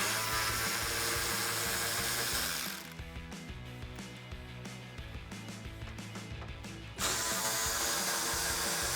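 Mechanical ratcheting and tool clatter as a 10mm socket on a hand ratchet backs off the inner bumper nuts of a 2005-2009 Mustang, a busy, steady run with a quieter stretch in the middle and no talk.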